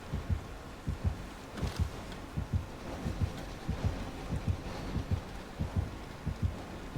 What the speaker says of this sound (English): if heartbeats get kind of loud